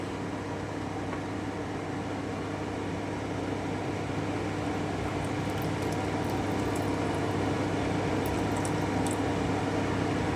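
Homemade rasgulla boil in sugar syrup in a pot, giving a steady, even bubbling hiss that stays at a constant level throughout without a break.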